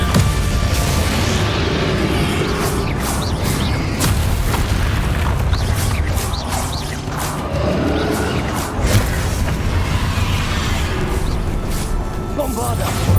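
Repeated booming spell blasts from the Bombarda explosion spell in Hogwarts Legacy, loud and dense, with whooshes and mechanical clatter layered throughout the battle.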